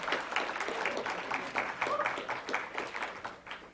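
Audience applause fills a university hall as a panel judge is welcomed at a Three Minute Thesis final, a steady dense patter of clapping throughout.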